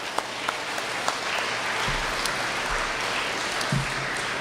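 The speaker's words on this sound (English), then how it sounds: "a round of applause for Chaki." Audience applause at a college event, a dense wash of clapping from a crowd that holds steady with a few sharper individual claps near the start, fairly close and without speech over it.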